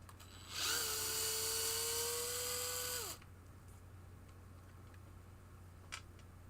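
An electric screwdriver used during an under-playfield rebuild of a Gottlieb Hit The Deck pinball machine spins up into a whining run of about two and a half seconds, then winds down, leaving a quiet room with a faint tick.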